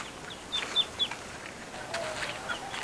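Young ducklings or chicks in a park give several thin, high peeps close by, short and spaced out over a steady outdoor background.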